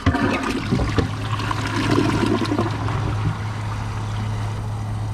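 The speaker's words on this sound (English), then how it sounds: "Here's another flush." A 2008 American Standard Champion 4 toilet flushes with a loud, close rush of water that tapers into a steady trickling refill, with no voices.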